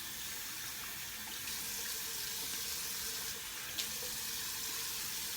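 Tap water running steadily into a sink to rinse blood off after a razor shave, a continuous close splashing hiss with no talk.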